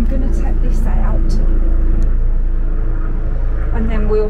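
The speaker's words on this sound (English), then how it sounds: "helicopter going overhead." A medical helicopter flies overhead above a garden, making a loud, steady low rumble with a faint rhythmic beat from the rotors that continues without a break.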